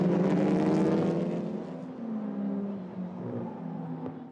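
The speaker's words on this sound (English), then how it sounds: "Hard braking into turn one. A little kiss at the exit of the corner." A TCR touring race car brakes hard into a corner, its engine droning loud and close then dropping in pitch as it slows, a strong sustained roar easing off toward the exit, no talking.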